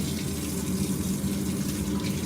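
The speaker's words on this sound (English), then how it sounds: "I just want to add a little bit of water to it." Water pours steadily from a kettle or tap onto couscous while it cooks, a continuous gushing flow with no breaks and no talking.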